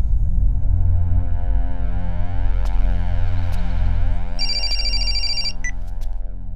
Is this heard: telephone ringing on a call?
yes